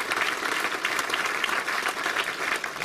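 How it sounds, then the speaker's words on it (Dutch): An audience applauds an award recipient at a municipal ceremony in Hardenberg, with brisk, dense clapping from many hands sustained at an even level for a few seconds and no voices over it. "dames en heren. Applaus."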